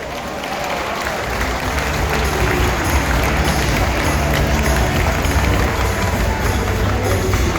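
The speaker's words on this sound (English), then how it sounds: "keep that applause going" Sustained audience applause fills a cruise ship event room, a dense, steady clatter of many hands clapping at close range for the whole stretch, with no break or fade.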